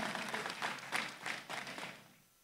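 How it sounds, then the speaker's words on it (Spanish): Audience applause at a mayor's public accountability meeting in Villa Rica, a steady burst of many hands clapping that carries on for about two seconds and then fades away. "un fuerte aplauso a todos ellos,"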